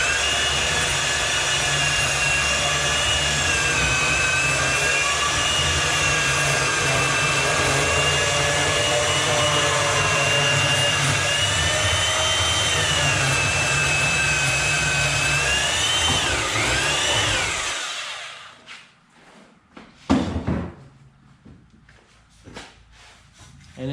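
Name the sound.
portable band saw cutting metal for skid pan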